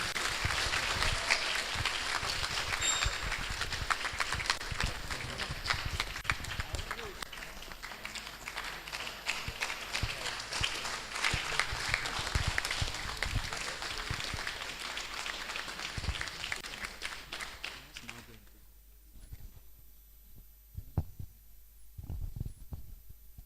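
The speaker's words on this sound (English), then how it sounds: "So a round of applause." An audience at a TEDx event breaks into loud, sustained applause that carries on for roughly eighteen seconds, then cuts off abruptly, followed by a few scattered thumps and faint noises.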